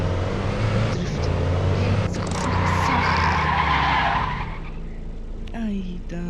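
A car drifts in the Madout2 driving game with a loud, sustained tire skid over a roaring engine. The screech holds for about four seconds, then drops away into quieter engine noise.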